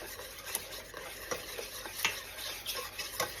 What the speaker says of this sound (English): So I'm to whisk this together until it is smooth.